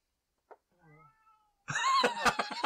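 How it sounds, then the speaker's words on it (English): A cat meows as a sound effect in a tabletop RPG session: a few faint, thin squeaks, then a louder drawn-out meow near the end. "That's a cat."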